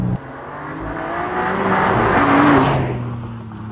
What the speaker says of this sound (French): Ah, puis ça pétarade à l'arrière, franchement, elle est vraiment très sympa cette M2